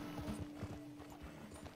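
Horse hooves gallop in Red Dead Online, a fast rhythmic clip-clop at fairly low volume with a steady tone running underneath, heard without talk.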